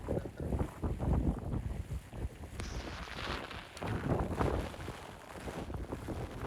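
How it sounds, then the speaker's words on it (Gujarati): Strong gusty wind buffets the microphone during village rain, rough surging rushes rising and falling with no talk. "પવન એટલો થાય ને છતરો મારો ઉડી જાય."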